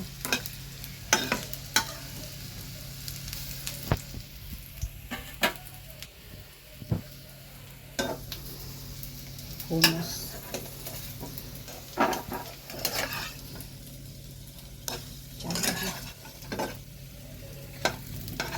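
Potato tikkis fry in a pan with a soft, low sizzle, punctuated by frequent sharp clicks and scrapes of a spatula against the metal, fairly quiet and close.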